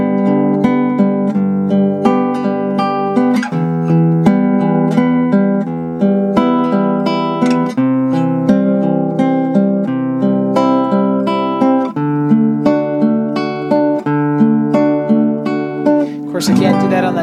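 Acoustic guitar fingerpicked in a steady 3/4 pattern, alternating thumb and finger strokes across the strings with two measures per chord; clear, close, continuous playing with no voices.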